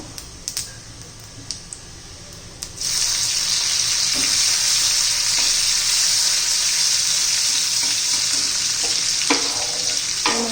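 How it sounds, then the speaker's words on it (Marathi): Chopped garlic and green chili hit hot oil with cumin seeds for a methi bhaji. After a few quiet clinks, a loud, bright sizzle suddenly flares up and holds steadily, with occasional stirring taps near the end. "आपण बारीक केलेला लसूण आणि मिरची घालून घेऊ"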